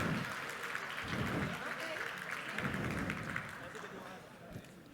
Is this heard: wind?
no